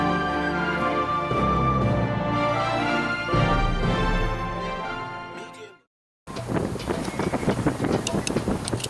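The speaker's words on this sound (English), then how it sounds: "It's a bit blustery today and it's a bit fresh" Blustery, fresh wind gusting across an open paddock field, roaring loudly into the microphone in sustained buffeting waves, cutting out briefly before rushing back just as strong.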